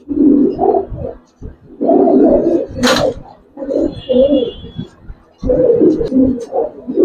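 Old-breed Giribaz pigeons coo nearby in several low, rolling phrases separated by short gaps, with a faint high tone and a brief sharp noise mixed in.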